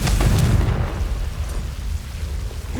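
A Confringo explosion spell goes off in Hogwarts Legacy, a loud close blast with a deep rumbling boom that rolls and fades over a couple of seconds.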